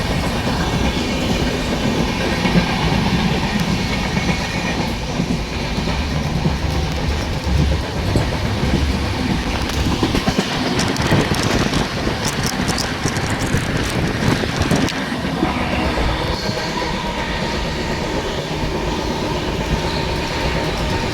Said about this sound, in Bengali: আর আমাদের ট্রেন এখন ছেড়ে দিচ্ছে মাঝরাত হয়ে গেছে